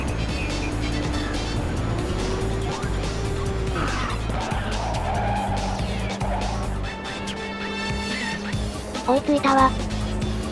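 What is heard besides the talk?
race car drifting with nitro, Ridge Racers 2 video game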